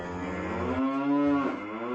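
Cattle give a long, loud, sustained moo nearby, with rising and falling pitch and no talk over it.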